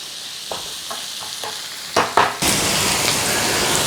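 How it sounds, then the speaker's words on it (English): Onions cook in a pot for a lamb biryani, with a few soft scrapes and stirs followed by a sudden loud, continuous sizzle that fills the rest. "we want to be caramelizing these onions"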